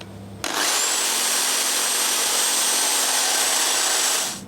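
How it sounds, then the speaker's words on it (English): A drill spins a steel wire brush against old paint on MGB rack and pinion steering parts, a loud steady whirring grind that starts abruptly and holds evenly without a break. "then I just switch the direction of my drill, and then it's going to bite again"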